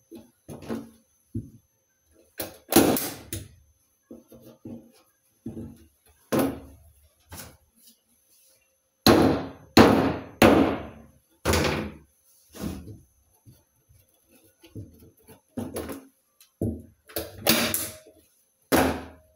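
Staples driven one by one into canvas stretched over a wooden painting frame, sharp close thunks and clacks in irregular bursts separated by silent gaps.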